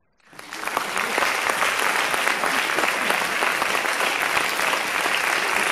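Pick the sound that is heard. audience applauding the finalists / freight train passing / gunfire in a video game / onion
audience applauding the finalists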